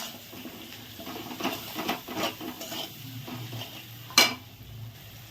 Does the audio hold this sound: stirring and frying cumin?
yes